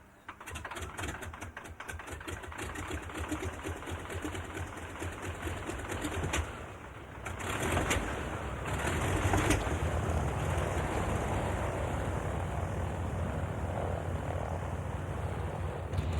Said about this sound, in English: The Junkers 52, nicknamed in German Tarnty-U, or Anti-Junkers, was among the most famous of all transport aircraft.